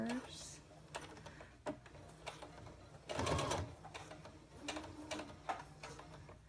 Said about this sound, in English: I'm going to stitch a few stitches forward and reverse.